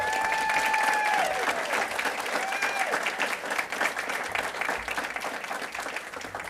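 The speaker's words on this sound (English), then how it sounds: "So you can give them a round of applause." A board meeting room breaks into applause for national champion drill teams, a sustained even round of clapping from a seated audience, fairly close, with a brief cheer at the start.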